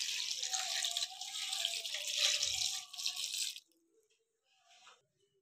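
Water pours steadily and loudly into a pot of desi chicken for a dum recipe, a broad continuous splash lasting a few seconds before stopping abruptly, followed by quiet faint clinks.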